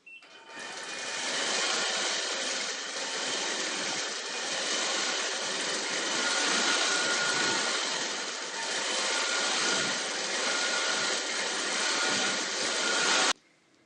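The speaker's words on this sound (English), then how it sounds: "I'll just quilt this area." A sewing machine runs steadily while quilting a leaf and swirl design on a table runner, giving a continuous even whir that holds at moderate loudness for the whole stretch and then stops abruptly.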